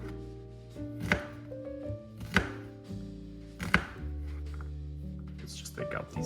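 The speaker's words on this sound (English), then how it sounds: "don't worry too much about mincing it perfectly, just chop it in small bits" A knife chops onion into small bits for homemade falafel, with three or four sharp, close board strikes spaced about a second apart over a steady hum and faint background talk.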